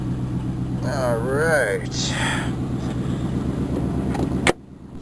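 A 1991 Chevrolet Caprice with throttle body injection runs cold in a steady, close engine rumble, with someone briefly talking over it before the sound cuts off abruptly near the end.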